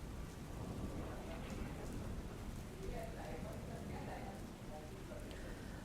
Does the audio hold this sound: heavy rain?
yes